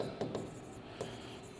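Writing on a board, a continuous dry rubbing scratch with a few sharper stroke onsets, close and steady for a short moment without speech.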